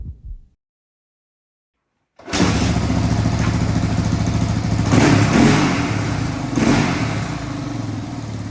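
A 1985 Honda ATC350X three-wheeler engine fires up after a short silence and runs loud and close, a rough steady putter with a couple of blips of throttle.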